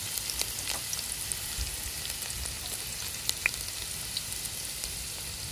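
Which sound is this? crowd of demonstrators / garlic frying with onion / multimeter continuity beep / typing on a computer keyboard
garlic frying with onion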